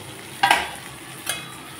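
Cauliflower and potato are sautéed with spices in a pan: a soft background sizzle, broken by two short scraping stirs, the first louder than the second.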